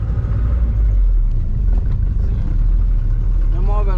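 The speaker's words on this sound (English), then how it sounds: "we just rented a taxi for the whole day to drive around the park" Rented taxi driving through a nature park in Guinea-Bissau, its engine a loud, steady low rumble close by, with a voice talking over it near the end.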